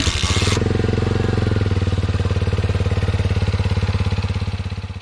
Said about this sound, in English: we got a Kickstarter.